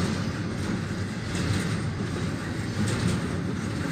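A CSX freight train rumbles steadily past at night, a continuous loud roar of rolling wagons with faint rhythmic clatter and no voices.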